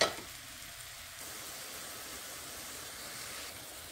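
Mushrooms sizzling in a hot pan, with onion and other vegetables for a ribeye steak dish, giving a steady, soft frying hiss that holds evenly throughout with no one speaking.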